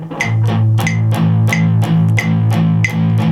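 Distorted electric guitar chugs in a tight, even rhythm of down-strokes, with a sharp metronome click ticking along underneath.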